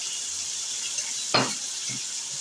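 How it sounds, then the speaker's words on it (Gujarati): Paneer curry ingredients sizzle in a pan with a soft, steady hiss, broken by one sharp scrape or clatter of stirring and a fainter second knock, with no voices. "હવે અમે હલાવી દઈશું"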